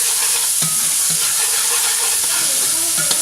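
Diced onion and small garlic cloves saute in oil for a beef ragu, giving a loud, steady sizzle with occasional stirring scrapes of a spoon against the pan.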